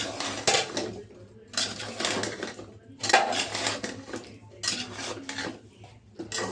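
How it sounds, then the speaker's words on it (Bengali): Clattering of a utensil against a pan as cauliflower is stirred into frying baila fish curry, with repeated bursts of scraping and clinking in a steady rhythm, close up. "এই যে আমি এখন ফুলকপিগুলো দিয়ে দিলাম, দিয়ে একটু ভালো করে নাড়িয়ে কষাইতে থাকবো।"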